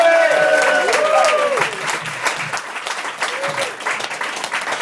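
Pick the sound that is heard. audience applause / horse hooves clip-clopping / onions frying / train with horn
audience applause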